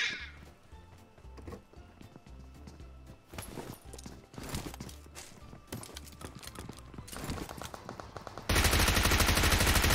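Gunfire in the PUBG game rings out as repeated sharp rapid shots in uneven bursts over game noise, rising at the end into a loud, dense, continuous roar.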